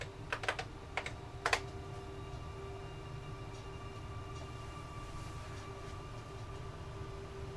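A few quick keystrokes on an AT&T Unix PC 3b1 keyboard while logging in, faint clicks in a short burst over a steady low hum of the machine, then only the hum.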